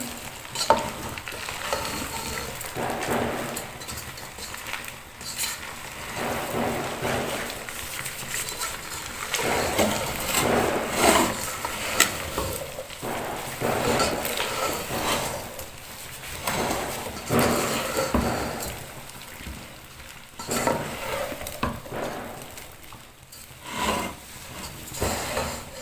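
Boiled rice with salt and white pepper is stirred and fried in a pan for fish fried rice: a continuous sizzle under repeated scraping and tossing strokes of a utensil, close and moderately loud, swelling and easing in irregular bursts.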